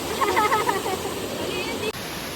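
Steady broad rush of Bugtong Bato Falls, the second waterfall visited, pouring into deep water; close and continuous with a voice speaking over the first part before a brief cut.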